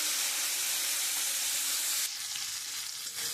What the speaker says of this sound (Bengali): এবার আমি চিংড়ি মাছগুলো হালকা করে ভেজে নেব।